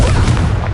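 A loud, booming blast from the Confringo fire spell in a Harry Potter game, a single dense explosive burst filling the short moment up close, with no voices.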